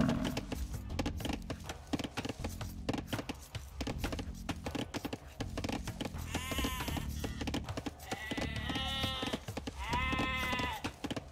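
Several sheep bleat in an Age of Empires match, a few distinct wavering calls in the second half over a busy bed of clicks and game sounds.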